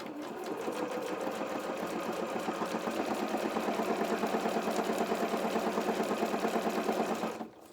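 A sewing machine runs a zigzag neatening stitch along the short sides of fabric for a doll's playsuit, a fast, steady mechanical chatter held for several seconds before stopping abruptly.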